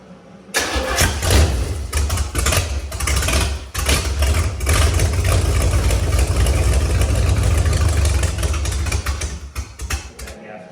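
A big-block V8 in a 1955 gasser cranks and fires for the first time, then runs loud and rough close by, its deep rumble steady for about ten seconds with brief dips in revs.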